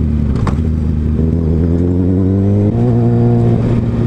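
A motorcycle engine droning loudly and steadily while riding, its pitch rising and shifting through the gears, close up with constant wind rumble and no speech.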